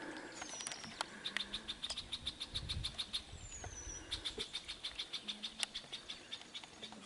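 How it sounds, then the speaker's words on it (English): Woodland birds call in the distance with steady, rhythmic repeated chirps and whistles over faint background hiss, no voices present. "We come over here to see the birds and they're all behind us in the woods."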